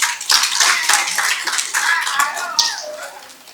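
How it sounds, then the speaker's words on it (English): Audience applause at an alumni dinner, a dense wash of clapping close by with crowd chatter and voices mixed in, fading toward the end. "I think she deserves another round of applause."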